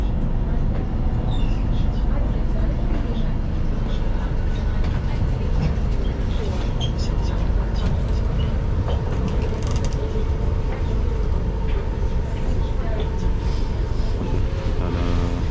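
A Singapore MRT train running into Aljunied station: a steady loud rumble with clattering wheels and rattling throughout, carried along without a pause, with people talking at times under the noise.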